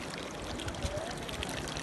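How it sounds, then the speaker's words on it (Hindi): Hot spring water at Tatta Pani in Kotli, Azad Kashmir, flows out of several springs in a steady, close rushing pour, faint and continuous. "ये मुख्तलिफ चश्मे हैं यहाँ पे जो यहाँ से पानी निकल रहा है"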